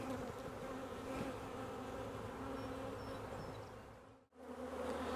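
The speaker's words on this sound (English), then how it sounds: "all the bees buzzing around me right now" Bees buzz continuously in a dense, close-up drone, with no voices, ending in a brief dropout near the end.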